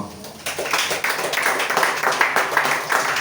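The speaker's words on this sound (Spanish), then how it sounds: "Denle un aplauso al Señor." A church congregation applauding after a prayer, a dense wash of many hands clapping steadily at moderate loudness, with rhythmic swells suggesting some people clap in time.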